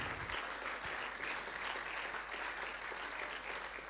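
Steady, dense applause from a theatre audience paying tribute, a sustained wash of many hands clapping at moderate distance with no speech over it.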